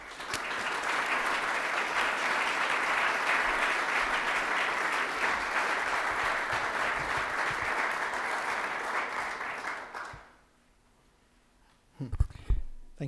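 Sustained audience applause in Washington, D.C. welcoming a speaker, a steady dense clapping for about ten seconds that fades out, followed by brief faint sounds.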